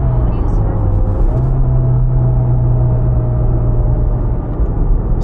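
A Mitsubishi Lancer Evolution X (CZ4A), 280 hp with S-SST gearbox, drones steadily from inside the cabin while driving, a loud continuous engine rumble with a faint tone sliding in pitch.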